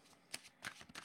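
Tarot cards shuffled during a card reading: a few quick, crisp riffling bursts, close and clear, over a quiet background.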